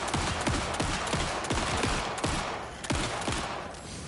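Gunfire from the survival horror game Alan Wake 2: dense, rapid repeated shots over a loud, constant roar of game sound, with no speech.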